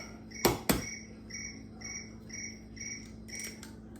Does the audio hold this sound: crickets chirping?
yes